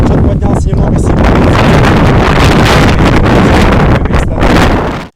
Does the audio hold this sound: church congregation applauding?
no